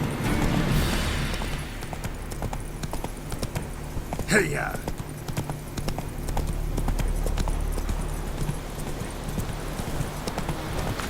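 A horse's hooves clip-clop in a fast, steady gallop through The Witcher 3, with a brief whinny partway through and a person talking over the game sound.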